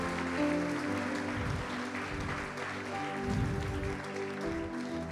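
Applause from a church congregation rises as a soft, diffuse patter of clapping under a sustained musical or organ-like drone, fairly distant and low in level throughout.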